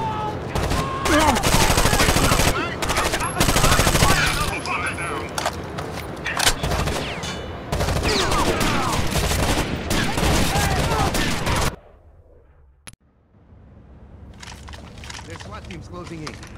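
Heavy gunfire in the video game Rainbow Six Vegas, loud rapid automatic bursts and shots almost continuous, with game voices talking over it and a brief lull near the end.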